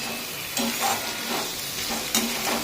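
Eggplant and capsicum sauté together in a pan, the vegetables stirred in a few quick scraping strokes over a steady soft sizzle, close and moderately loud with no talk.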